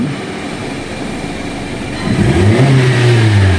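2018 Honda Civic engine that occasionally misfires, idling with a low rumble and then revving up with a rising, strained tone in the second half, close and loud.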